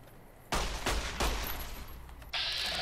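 Gunfire in the post-apocalyptic shooter Fallout: New Vegas: three loud, close shots in quick succession, each with a short ringing tail, followed by a sustained bright hiss near the end.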